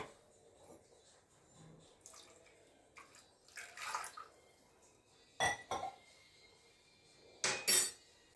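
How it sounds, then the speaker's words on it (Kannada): Water poured from a mixer grinder jar while making capsicum tambuli in a home kitchen: a short splashing pour between soft clinks of the steel jar and utensils, fairly quiet and close. "ನೀರು ಹಾಕಿ ಮಿಕ್ಸಿ ಜಾರ್ದ ಸ್ವಲ್ಪ ಹಾಕ್ತಾ ಇದ್ದೀನಿ."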